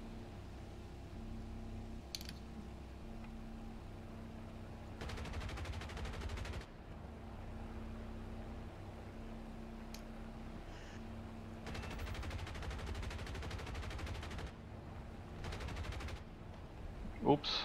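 Fighter plane machine gun fire in a combat flight video game with a P-47 D and P-63 C-5, in several dense bursts of rapid rattling shots over steady engine drone, with voices talking at times.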